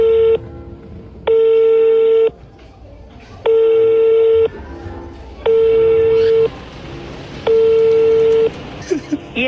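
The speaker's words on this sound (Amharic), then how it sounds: "የደወሉላቸው ደንበኛ ስልክ አይመልስም" Repeated telephone call-progress tones of an unanswered call, five long steady beeps about a second each with short gaps, loud and clear over a faint background murmur.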